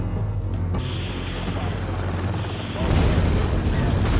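A combat helicopter armed with a chain gun, rockets and Hellfire missiles launches a rocket salvo, a sudden roaring burst rising over steady rotor and engine noise.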